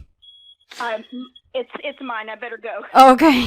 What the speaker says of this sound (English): Who's got the fire alarm going off in the background?